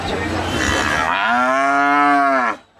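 A cow moos at a village cattle market in Banshkhali, Chattogram. One loud, close moo lasts about a second and a half and rises out of busy market noise.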